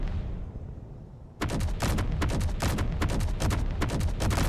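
Video game gunfire rattles in a steady rapid stream of sharp, close, loud shots after a quieter rumbling start.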